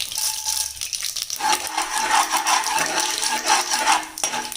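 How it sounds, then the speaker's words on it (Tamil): Mustard seeds crackle and splutter in hot groundnut oil in a pan, a dense, bright rattling patter that swells after the first second and continues steadily and close, with no talking. "கடுகு நல்லா பொரிஞ்சிச்சுப்பா"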